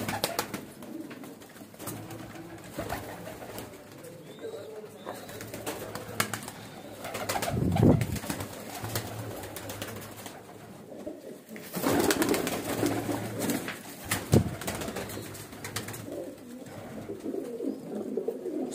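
Breeder pigeons coo steadily in a loft, with repeated soft calls, occasional louder bursts and a faint flutter, and almost no talking.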